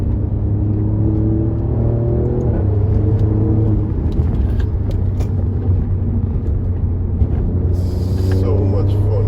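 An Alfa Romeo Giulia Quadrifoglio engine drones steadily up close, its pitch climbing and falling as it accelerates and shifts, with a constant low rumble throughout.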